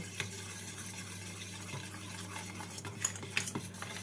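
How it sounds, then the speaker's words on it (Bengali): Spices such as cumin and Kashmiri chilli powder being mixed into yogurt for a cauliflower roast, quiet close scraping and clinking of a spoon against a bowl in irregular strokes, no talk. "দইয়ের সাথে মশলাগুলোকে ভালো করে মিশিয়ে নেব"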